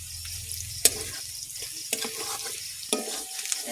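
A spice mixture with a little sugar sizzles and fries in hot oil for chicken curry, a steady soft crackle with occasional sharp clinks of stirring.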